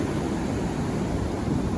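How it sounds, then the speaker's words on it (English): Ocean surf at Atlantic Beach, Florida rushes in a steady, broad wash of breaking waves, close and continuous, with some wind buffeting the microphone. "the waves today are so different than what they have been these last many weeks"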